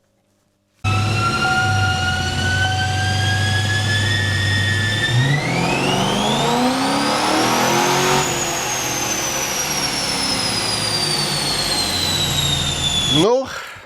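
A Chevrolet Camaro V8, stroked from 6.2 to over 7 litres, runs a dyno pull, its engine note rising steadily in pitch to a loud high-revving peak, then holding and easing off before cutting abruptly.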